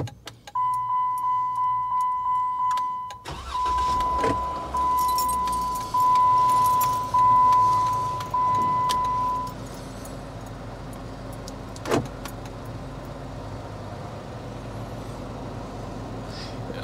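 A 2016 Jeep Wrangler fitted with a remote start cranks and idles: a run of short rhythmic chirps and a long tone, then the engine turns over and settles into a low, steady idle with a brief clunk partway through.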